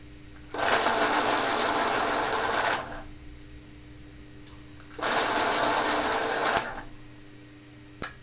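Electric pencil sharpener grinding pencils to a point for drawing horns, two separate bursts of steady whirring, each about two seconds long, close and fairly loud, with quiet pauses between.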